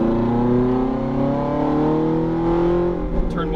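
A Ferrari F430 accelerating hard on a race track, its loud engine note rising steadily and close by, with a voice speaking faintly under it.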